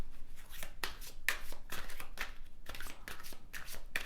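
Tarot cards being shuffled by hand, a steady run of crisp riffling bursts and soft slaps repeating close up, with no voices.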